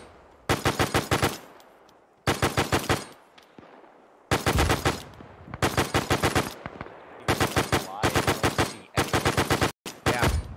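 Automatic gunfire in ArmA 3 rips out in about seven sharp, loud bursts of rapid rounds, separated by short pauses with a faint background between them.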